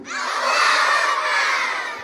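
Children in a crowd shout a loud, sustained takbir chant together at a school morning storytelling event, a dense wall of young voices lasting about two seconds with no pause.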